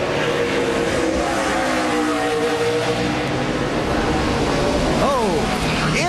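NASCAR stock cars race at the Montreal road course: a dense, continuous engine roar with several cars rising and falling in pitch, and a sharp downshift near the end, under excited commentary.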